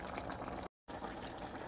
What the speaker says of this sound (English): The shells will get bigger as you boil them in the water.